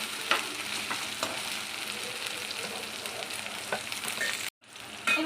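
Ginger garlic paste fries in a pan for paneer bhurji, a constant close crackling sizzle broken by faint stirring scrapes, then briefly cut off before resuming.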